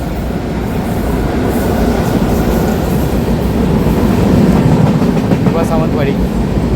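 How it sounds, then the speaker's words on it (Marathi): The Diva-Sawantwadi Express on the Konkan Railway between Panval and Nivsar rumbles past close by with a loud, continuous roar and rattle of wagons, and a voice speaks faintly underneath. "ही आलेली आहे फायनली गाडी"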